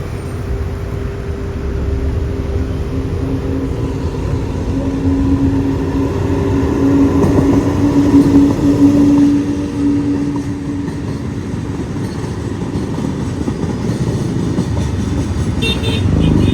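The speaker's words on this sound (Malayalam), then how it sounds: "പൻവേൽ ഗോരഖ്പൂർ എക്സ്പ്രസ്. അതാണ് ഇപ്പോൾ പോകുന്നത്." Panvel Gorakhpur Express rolling past a spotting point near Panvel, a steady rumble and hum building toward the middle and easing off, with a sustained tonal drone, no talk.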